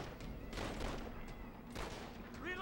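Steady gunfire in Call of Duty World at War on Mount Tapochau, repeated crackling shots at a moderate distance over a dense battle background, with no talk.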